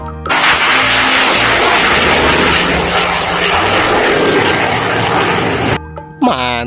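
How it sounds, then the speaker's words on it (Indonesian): A loud, continuous fighter jet engine roar fills about five seconds, then cuts off abruptly, and a short burst of voice follows. "ini namanya pesawat tempur"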